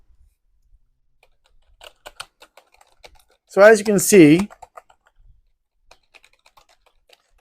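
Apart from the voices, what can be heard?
typing on a wired backlit keyboard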